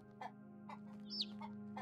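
Chickens in a farming video game give several short, separate clucks, with one higher squawk near the middle. A constant low hum from the game plays under them.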